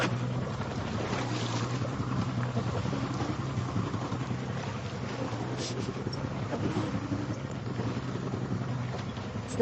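A dive boat pulls up at a crowded wreck dive site, its steady engine drone and hull wash rolling continuously under wind buffeting the microphone and lapping sea water, moderately loud throughout.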